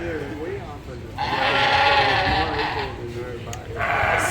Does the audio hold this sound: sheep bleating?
yes